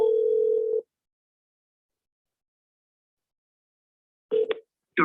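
A telephone line gives one steady electronic tone, heard close for under a second, then drops to silence before short bursts of a recorded voice.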